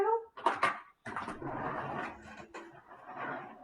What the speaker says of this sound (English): she's going to start barking outside